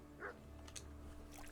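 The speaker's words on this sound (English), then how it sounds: "So we're at the mill. There's our dog." A dog at a mill in the video game Kingdom Come: Deliverance gives a short faint yip or whimper among quiet game ambience.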